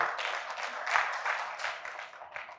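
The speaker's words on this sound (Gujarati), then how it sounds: "જોરદાર તમારા બધા માટે તાળીઓ." Audience applause at a Gujarati poetry gathering in Godhara, a steady patter of hand claps held for a few seconds, fairly soft and distant, with a brief louder swell near the middle.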